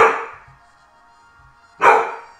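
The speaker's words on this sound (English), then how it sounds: "What are you barking at me for?" Dog barking in the Pokemon Super Mystery Dungeon video game, two loud, sharp barks close by, separated by a quiet pause of over a second with a faint tonal hum in between.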